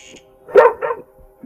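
A puppy in the horror video game Moth Lake lets out two quick, close barks, the first louder and the second slightly softer, against a faint background hum.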